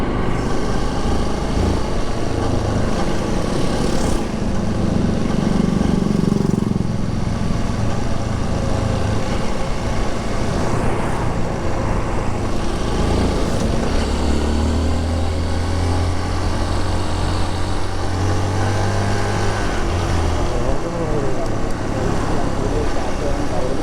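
Honda CRF 150 dirt bike engine droning steadily on a road ride, loud and continuous with shifts in pitch as it accelerates, wind and road noise mixed in.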